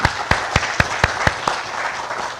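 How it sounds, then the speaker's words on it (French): Applause from an audience at an innovation awards ceremony, a background wash of many hands with several distinct, louder claps standing out in a regular rhythm near the listener during the first second and a half. "je vous demande de les applaudir,"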